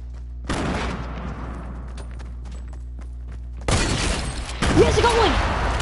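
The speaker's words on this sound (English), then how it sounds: "We'll try to kill somebody with a grenade." Grenade blast and bursts of gunfire in the Fortnite battle royale game, sharp cracks and booms in rapid clusters, loud and close, with an excited player voice talking over parts of it.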